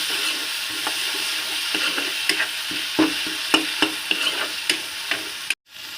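Chopped tomatoes with turmeric frying in a pan while being stirred, a continuous soft sizzle broken by a series of distinct spatula scrapes and taps, close up, ending in a short pause.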